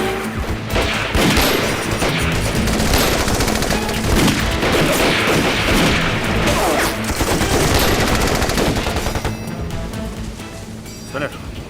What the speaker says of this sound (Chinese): 除了鬼子用的机枪之外，还有一种枪声我从来没听见过